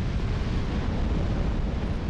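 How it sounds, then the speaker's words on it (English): An explosion in the video game Dark Souls 2 rumbles as a dense, low, sustained roar, loud and steady for about two seconds with no speech over it. "That was a cool explosion"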